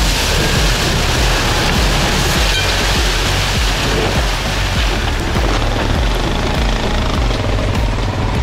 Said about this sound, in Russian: Дождь идет жестко.